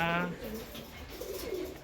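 Pet pigeons kept healthy by their owner give faint low coos in a couple of gentle rolling phrases, after a brief tonal sound at the start.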